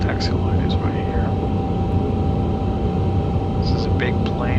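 An Airbus A350-1000 taxis in a flight simulator game on a Bangkok to Taipei leg: a steady low engine hum with a thin constant whine, and brief faint voice-like chirps near the start and end.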